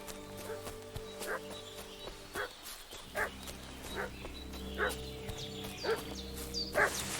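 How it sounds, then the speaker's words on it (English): Dog barking repeatedly in the open-world game Kingdom Come: Deliverance II, a series of short, moderately close barks spread at an irregular rhythm over a steady ambient background, with occasional hoof-like clopping. "What's that dog making such a fuss about?"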